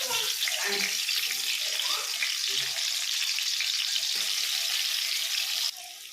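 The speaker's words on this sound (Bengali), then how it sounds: "আমি প্রথমে ধুন্দলটা ভেজে নেব। ধুন্দলটা দিয়ে দিচ্ছি।" Ridge gourd fries in hot oil in a wok, producing a continuous bright sizzle with scattered low clunks and stirring sounds, dropping slightly quieter near the end; no voices are heard.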